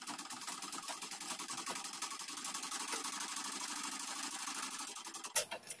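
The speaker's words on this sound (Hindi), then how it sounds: "तो आप देख सकते हैं मशीन जो है फास्ट कपड़ा सिलाई कर रहा है" Sewing machine running fast while stitching cloth, threaded with a drive cord: a steady, rapid mechanical whirring rattle, close and continuous for several seconds before stopping with a brief knock.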